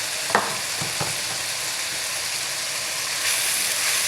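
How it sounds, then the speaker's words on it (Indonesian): Sliced sausage frying in a pan of spicy sambal for fried rice, a steady close sizzle with a few sharp scrapes of stirring near the start. "Aduk-aduk sampai tercampur rata antara sambal pedas dan sosisnya"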